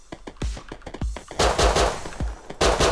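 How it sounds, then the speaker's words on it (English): Gunfire in the video game Rust, with rapid automatic bursts and single cracks of shots coming close and loud in quick clusters, interrupted by brief pauses. "shooting at them"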